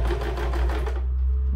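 A sewing machine stitches a skirt waistband in a quick, steady run of needle pulses for about a second, then stops and leaves a low, close mechanical hum.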